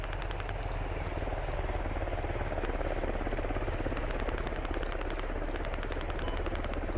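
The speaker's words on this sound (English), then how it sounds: "What's with the helicopter?" A helicopter flies in the Squad military shooter game, a steady rapid rotor chop throughout, with faint gunfire mixed into the background.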